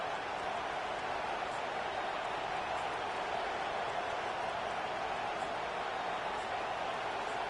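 A large stadium crowd roars steadily throughout at a college football game against Boston College, a dense, continuous wall of cheering and noise with no breaks.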